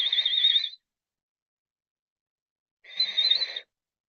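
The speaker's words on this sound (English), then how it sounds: "Contract your lips and inhale, making a flute whistling sound while inhaling," Two breathy whistling inhales through pursed lips during a yoga breathing exercise, each lasting under a second and separated by a long silence, close and fairly soft with a thin flute-like tone riding on the airy rush.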